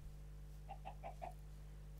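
A Minecraft chicken gives four quick soft clucks in a row, faint against a steady low electronic hum.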